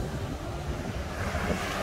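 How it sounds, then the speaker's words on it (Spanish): Westerly wind gusts and breaking surf on a beach, a steady, loud roar of waves and wind buffeting the microphone throughout with no voices. "aquí podéis ver, se está levantando poniente"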